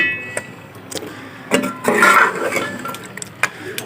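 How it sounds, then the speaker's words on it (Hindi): Mutton curry with potatoes and peas stirred in a metal pot, a spoon knocking and clinking against the rim in short scattered taps, with a thicker scraping swirl midway. "अब हम इसको अच्छी तरह मिक्स करेंगे जी।"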